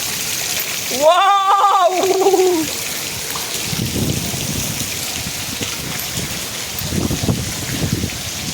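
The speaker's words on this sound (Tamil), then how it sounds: "இது தாண்டா மழை." Heavy rain falls in Chennai as a steady hiss with splashing bursts, loud and close, while a short animal-like call rises and falls near the start.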